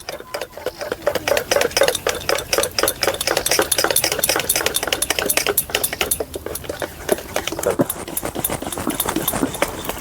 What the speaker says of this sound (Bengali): ভালোভাবে ইনো দিয়ে ফেটে নেওয়া হয়ে গেছে।